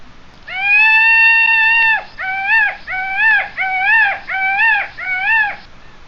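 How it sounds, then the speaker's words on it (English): Peacock call: a long, loud, sustained harmonic wail followed by a series of shorter, rising-falling honking cries, clear and close with no talk. "Peacock."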